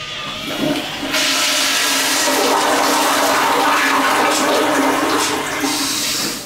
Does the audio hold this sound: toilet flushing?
yes